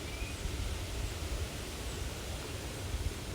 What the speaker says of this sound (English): it is super windy outside today